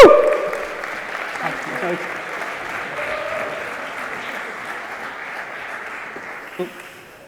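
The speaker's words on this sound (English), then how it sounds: "A round of applause!" An audience at an NFT panel event applauds as the panel comes to the stage, a steady clapping that starts near and loud, then gradually fades over several seconds.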